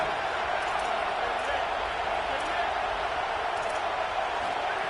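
A stadium crowd in a college football video game roars in a steady, dense wash of cheering that holds at an even level throughout, with no gaps.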